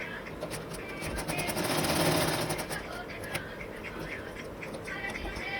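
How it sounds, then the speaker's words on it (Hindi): A sewing machine stitches a seam on a suit in a fast, close mechanical rattle that swells in the middle, with brief pauses and a voice speaking over it. "सिलाई को अच्छे से पक्का कर लेना है।"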